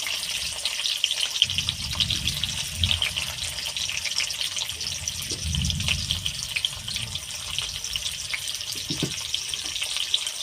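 Chopped onion frying in oil makes a continuous hissing sizzle throughout, with a few duller low thumps and stirring rumbles underneath.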